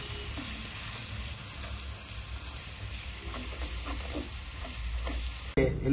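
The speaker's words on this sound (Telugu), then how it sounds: "దాన్ని నూనెలో వేసుకోవాలి. వేసుకున్న తర్వాత ఉల్లిపాయ పేస్ట్ ఏదైతే గార్లిక్ పేస్ట్ ఉన్నామో వేసుకొని" Onion and garlic paste frying in oil in a pan for a fish pickle, a steady close sizzle with faint stirring scrapes throughout, ending in a sudden louder clatter.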